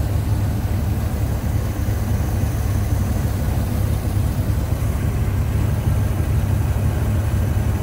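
A 1974 Chevrolet Corvette Stingray C3 with a rebuilt engine idles smoothly, a steady low engine drone heard close and alone with no voices.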